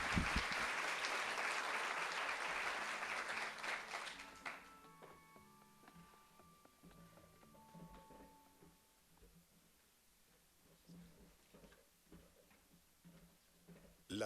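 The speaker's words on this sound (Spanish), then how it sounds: "Por favor, recibamos con un aplauso al doctor Miguel Ángel Verdugo." An audience at a conference applauds a doctor taking the stage. Clapping is full for about four seconds, then thins to scattered claps, leaving a quiet room with faint ringing tones.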